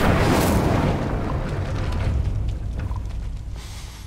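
The Incendio fire spell is cast in the video game Hogwarts Legacy, a loud fiery whoosh and booming burst at the start that rolls into a crackling, roaring fade over several seconds.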